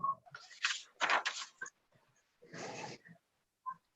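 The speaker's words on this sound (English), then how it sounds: "If one of you has a bird, could you mute yourselves when you're not talking?" A pet bird chirps and squawks in a participant's room during a planning commission video call, in several short, close bursts with brief quiet gaps between them.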